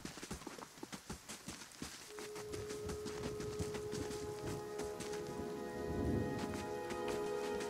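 Rain falls in the video game Pillars of Eternity as a steady patter of drops, with a run of sharp, clip-clop-like taps at first and then an even, moderately loud hiss.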